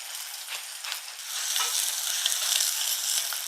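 Okra hits hot oil with popped mustard seeds in a pan, giving a continuous bright sizzle and crackle that swells after the first second and holds steady, with no talking.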